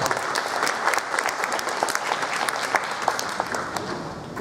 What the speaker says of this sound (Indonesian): Oke, tepuk tangan buat Pak Aroni.